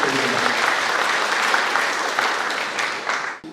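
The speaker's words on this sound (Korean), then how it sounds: "큰 박수 부탁드립니다." A large audience at a Sejong town-hall meeting in Yeondong-myeon claps loudly and continuously for the mayor, a thick wash of applause that thins and trails off near the end.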